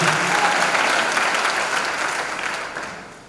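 A church congregation applauds the Lord during a worship service, with dense, sustained clapping close by that fades slightly toward the end.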